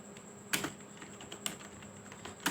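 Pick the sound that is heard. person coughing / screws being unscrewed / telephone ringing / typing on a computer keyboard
typing on a computer keyboard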